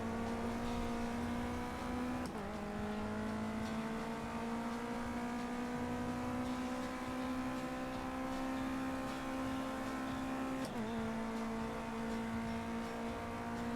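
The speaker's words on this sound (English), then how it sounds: "Listen to my car chug." A race car engine in the Project Cars 2 racing game holds a steady, loud droning note with rising pitch, broken by two quick gear shifts during an online race.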